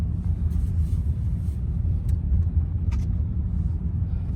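Car driving through morning commuter traffic on a snowy road, with a steady low engine and road rumble throughout and a few faint higher clicks over the constant drone.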